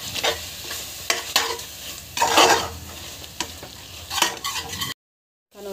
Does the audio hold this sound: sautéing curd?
yes